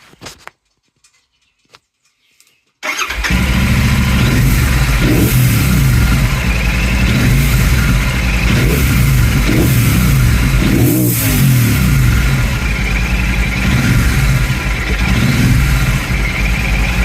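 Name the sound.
Royal Enfield Super Meteor 650 engine revving with DNA air filter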